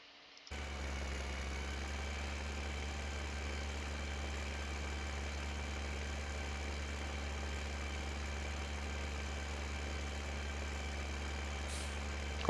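Slow tractor engine running in Farming Simulator 15, a steady low droning idle with a constant hum that starts abruptly and holds unchanged, fairly loud and alone without talk.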